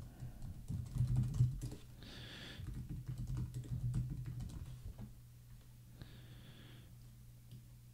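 Computer keyboard being typed on to fill a web sign-up form with fake data: soft, quick keystroke clatter in irregular bursts, close and fairly quiet.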